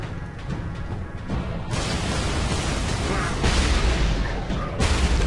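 Grenade explosions in the Space Marine video game during a co-op fight against guardsmen, with loud broadband booms and bursts arriving in quick succession over sustained rumbling battle noise.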